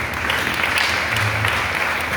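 A church congregation claps in a loud, continuous burst of applause that holds steady for about two seconds.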